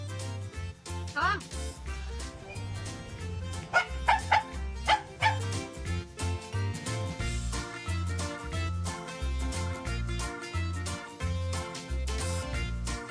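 Dogs meeting new friends bark and yip in short excited bursts with whimpering, over steady background music.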